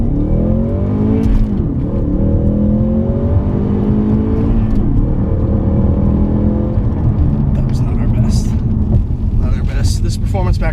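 A 2015 Ford Mustang EcoBoost Performance Pack with a six-speed manual revs loudly and launches hard, its engine note climbing steadily under a driver's talk.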